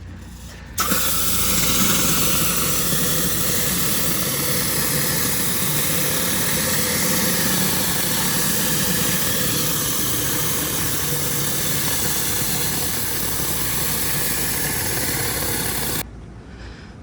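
A pressure washer engine runs steadily at a constant drone while a Mini Mondo surface cleaner works the ground, the loud spray-and-motor roar starting abruptly and holding until it cuts off near the end.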